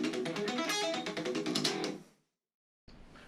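Rapid sweep-picked electric guitar notes in a quick cascading run, each note separate and clear, then a short silence before another note starts.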